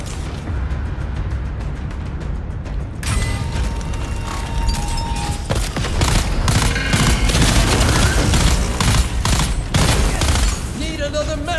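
Sustained gunfire in Dune Awakening, dense bursts and booming impacts over a loud, busy mix of effects and music for most of the stretch, with a quieter lead-in.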